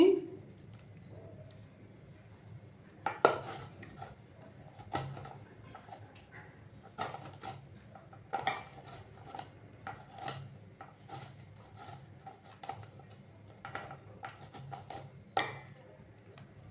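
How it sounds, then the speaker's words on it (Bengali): Tender bottle gourd being grated by hand, giving quiet, irregular scraping clicks and rubs, with sharper strokes every second or two over a soft background hum. "এইভাবে পুরো লাউটাকে আমি গ্রেট করে নেব"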